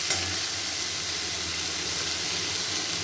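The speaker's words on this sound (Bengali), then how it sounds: "ভালো করে মশলাটা আমি কষিয়ে নেব।" Spice masala frying and being stirred in a pan for a Bengali katla fish curry with potato and drumstick stalks, a steady close sizzle with soft stirring scrapes throughout, no voices.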